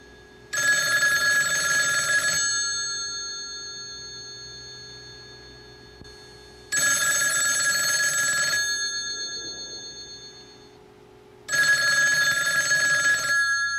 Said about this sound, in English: So I'm going to ask you to pretend that the phone's not ringing